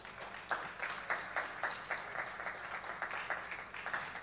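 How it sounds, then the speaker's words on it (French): Fairly faint, distant applause from an audience at a formal speech event, clearly separated claps falling in a steady, even rhythm. "Je vous remercie tous et toutes et je vous demande de les applaudir"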